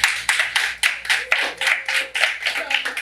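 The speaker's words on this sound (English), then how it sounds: "I want to give the cast a round of applause" An audience claps steadily for a few seconds at a film screening in New York City, a dense, lively burst of applause from a crowd nearby.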